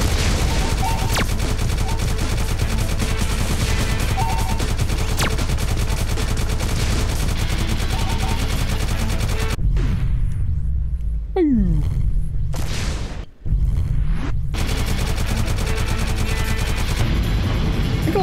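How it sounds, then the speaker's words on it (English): Space combat in the game Galaxy Warfighter with continuous rapid gunfire striking shields, a dense loud rumbling barrage that briefly drops out to a whooshing sweep before resuming. "I think a lot of the shots are colliding with the shields"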